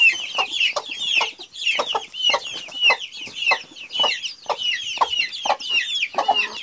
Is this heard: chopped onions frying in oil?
no